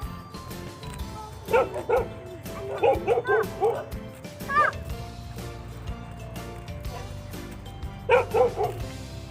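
A dog barks in short, repeated clusters outdoors in a morning home setting, fairly close, with pauses between bursts over a steady background hum.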